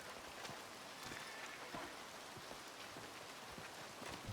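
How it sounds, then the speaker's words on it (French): Steady, faint rain falling in the video game Red Dead, an even hiss of drops with scattered soft patters and no talk. "il pleut là"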